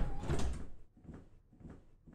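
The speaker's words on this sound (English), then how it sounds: "Shut our two doors." Electric 12-metre Bolloré Bluebus doors in a bus simulator game closing, heard as a burst of pneumatic hiss and a thud, followed by fainter repeated whooshing pulses, alone without talk.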